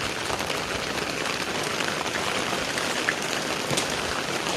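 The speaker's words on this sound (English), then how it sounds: "I actually like going out on a rainy day." Rain falls steadily on a rainy day in Japan, a dense even hiss of drops hitting surfaces, constant and fairly loud, with no speech over it.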